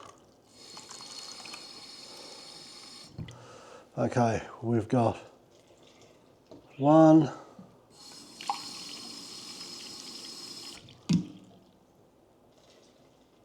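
Tap water pours into a measuring cup in a home kitchen while making herb bread, two separate steady runs of several seconds each, with a person speaking between them.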